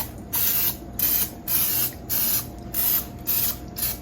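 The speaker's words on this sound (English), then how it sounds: "We're going to give the other side a quick little spray." A series of short, sharp spray hisses from an aerosol can of cooking oil sprayed onto a pan, about seven quick bursts in a steady rhythm, close by.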